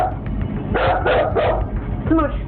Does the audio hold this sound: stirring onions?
no